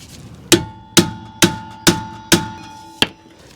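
A hammer strikes a rusted rotor retaining screw on the rear hub of an Acura TL, six sharp metallic blows at a steady pace, close and loud with short ringing decay, no talking.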